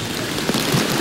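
Heavy rain during a day of steady downpour near La Mesa Dam in Quezon City, a dense, even hiss of falling water with a faint low rumble, continuous and loud, with no voices.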